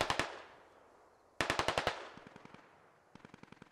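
Heavy machine gun fire in the tactical shooter game Squad, heard as several separate bursts of fast, loud shots, with the later bursts weaker and farther off, and no talking.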